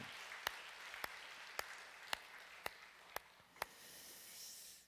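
A church congregation applauds during a Sunday service, a faint, soft, distant patter of clapping with a handful of sharp individual claps standing out at regular intervals.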